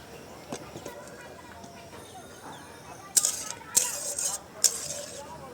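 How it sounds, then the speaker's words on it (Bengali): A metal wok holding a fish and sweet potato greens curry is lifted off a kitchen stove, giving three sharp, close metallic clanks in the last seconds after a quieter stretch of faint kitchen clatter. "এখন কড়াইটাকে উঠায় ফেলবো"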